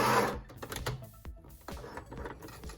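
A sewing machine back stitches a fabric face mask in short, rapid mechanical bursts of needle chatter with brief pauses and clicks between, close and fairly quiet.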